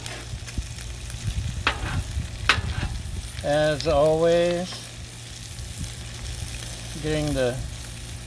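Bacon, butter and vegetables sizzle on a flat griddle in a continuous crackling hiss, while a voice sings and talks over it at intervals.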